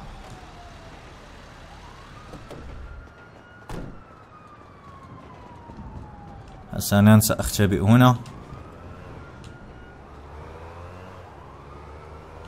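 Police car sirens in the video game GTA V wail faintly in the background for the length of the chase, with a loud burst of engine and impact noise midway, while someone talks.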